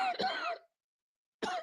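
Two harsh coughs from a person at the tail end of an illness, a longer rasping one followed by a short pause of silence and then another abrupt cough, close and loud.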